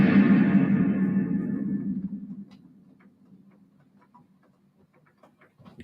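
A Fractal VP4 huge stone quarry reverb lets a guitar sound bloom into a long, dark tail that fades slowly over several seconds, with faint ticking clicks and small noises scattered through the decay.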